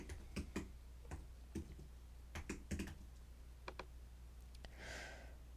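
Keys on a computer keyboard are typed in short irregular bursts of crisp clicks, close and fairly quiet, ending with a soft breathy sigh.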